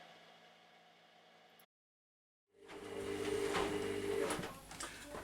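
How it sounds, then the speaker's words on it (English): A domestic washing machine runs nearby with a steady mechanical hum and churning. It cuts to near silence for a moment, then returns louder with rumbling and rattling. "My washing machine's on, I'm trying to catch it between pauses"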